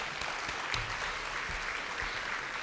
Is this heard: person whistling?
no